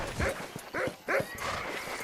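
A dog in the video game Red Dead Redemption barks three times in an evenly spaced series, fairly loud over a continuous game background with hoof-like clopping.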